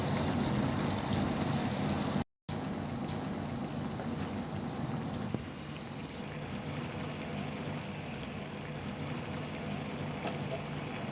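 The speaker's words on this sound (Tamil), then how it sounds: "தேவையான அளவு தண்ணி." Water pours steadily into a simmering lasagne meat sauce in a pan, a continuous close splashing wash that goes on for several seconds with a brief cut partway through and no voices.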